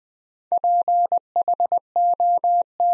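Morse code tones at 20 words per minute spelling the word phone, a steady mid-pitched beep keyed in clean dots and dashes with brief gaps between letters, loud and alone.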